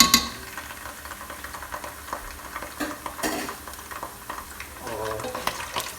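Ginger garlic paste fries in a pan with a steady crackling sizzle, broken by scraping stirs and clinks of a spoon against the pan, close and moderately loud, with no talking.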